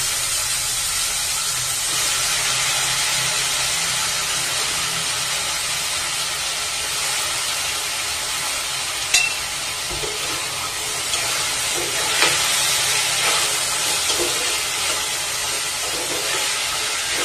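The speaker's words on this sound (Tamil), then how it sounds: "இப்போ முந்தின நாள் ராத்திரியே ஊற வச்சிருந்த கொண்டக்கடலை எல்லாம் சேர்த்துடலாம்." Soaked chickpeas tipped into a simmering chickpea curry, giving a steady hiss and sizzle from the pot with a few soft knocks and splashes partway through; no voices.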